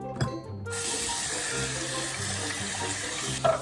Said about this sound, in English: Before you start testing, wash your hands or use hand sanitizer.